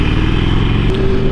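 A motorcycle rides along a twisty road, its engine a steady, close, loud drone with wind rush throughout, no talking.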